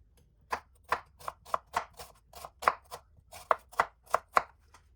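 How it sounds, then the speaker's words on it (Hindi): A knife finely chops onion on a board in a steady run of about fifteen crisp, close, evenly spaced strokes, with no other sound. "प्याज को हम काट लेंगे बारीक बारीक।"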